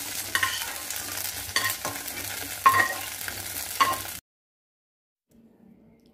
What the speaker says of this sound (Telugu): గోంగూర వాడ్చుకుంటున్నానండి.